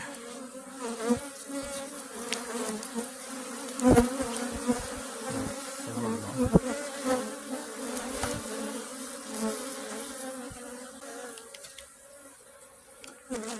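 Honey bees swarm around an open beehive during beekeeping, a dense, steady buzzing close to the microphone, with a few louder bees passing nearby and occasional handling knocks.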